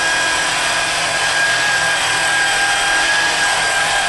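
A power polisher works hard water stains off a window glass, giving a loud, continuous high-pitched whine and grinding hiss that holds steady throughout without speech.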